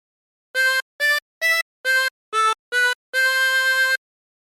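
Harmonica playing the tune of Waltzing Matilda with bent notes: seven clear, sustained reedy tones in a row, the last held longest, alone in a quiet room.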